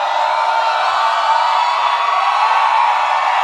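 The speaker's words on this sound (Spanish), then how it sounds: "cómo grita la gente" Loud, continuous crowd screaming and cheering from a K-pop audience during a performance, a dense, sustained roar of high-pitched voices with no break.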